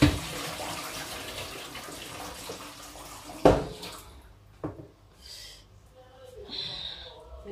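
Water splashing and sloshing as meat is washed by hand for Nigerian fried rice, steady at first and then fading to a few faint splashes, with a person talking.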